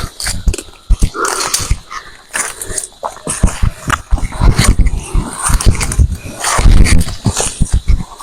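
Dog barks and yips come in irregular bursts throughout, mixed with busy background noise and some clattering, fairly close and loud.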